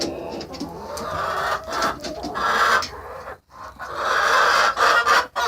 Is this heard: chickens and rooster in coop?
yes